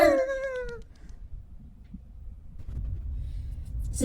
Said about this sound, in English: Who just meowed?